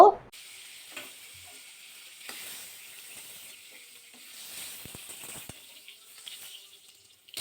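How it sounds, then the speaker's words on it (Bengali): Pointed gourd frying in mustard oil in a wok: a steady, close sizzling hiss with occasional soft stirring scrapes and clicks, no talking. "বাকি পটলটা পুরো এই তেলের মধ্যে ভাজা করে নেব"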